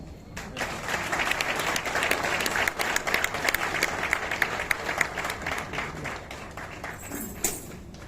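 A seated audience at a Nigerian digital literacy policy dialogue applauds in a sustained, moderately loud round of dense clapping that gradually thins out, with a few sharper claps near the end.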